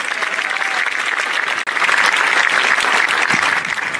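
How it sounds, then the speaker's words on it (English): An audience at a 2018 high school graduation ceremony claps for the graduates: dense, steady applause that fills the room, with a brief dip midway before it swells again. "Let's all give the graduates a round of applause."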